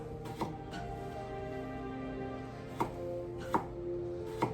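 A knife chops starchy vegetables into chunks on a board for a budget shipwreck stew, with a few sharp, separate knocks spaced irregularly over a steady low hum.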